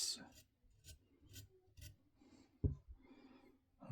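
A Bubba Blades fillet knife is drawn across the stone of a KME sharpener in a steady series of soft, close rasping strokes, about two per second, with a faint tap near the end.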